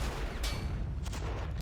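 Mortar fire in the WWI game Battle of Empires 1914-1918, two sharp blasts over a low rumbling battle background, fairly close and brief.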